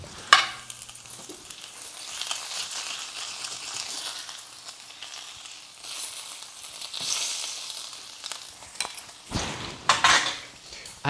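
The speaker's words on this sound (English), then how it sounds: "I actually prefer slow cooking bacon." Bacon slow-cooks in a pan with a soft, steady sizzle, broken by clanks of pots, utensils and a bowl being handled close by; the frying stays fairly quiet beneath these louder kitchen knocks.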